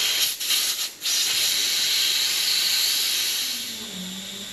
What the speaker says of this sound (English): we need to let all the air out because you don't want to be doing this with air in